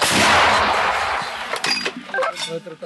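A loud, sustained blast of L119 howitzer artillery fire at the start, with a rumbling roar that fades into metallic clanks and rattling.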